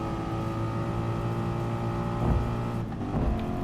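Race car engines, including a BMW, droning steadily in the racing video game Gran Turismo Sport, with several cars' tones layered at close range and a brief louder surge near the end; no talking.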